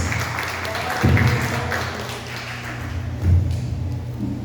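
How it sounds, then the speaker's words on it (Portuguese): A congregation claps during a church service, a steady wash of applause with a few low thumps and voices mixed in, at moderate loudness. "Os irmãos podem aplaudir ao Senhor por esta palavra."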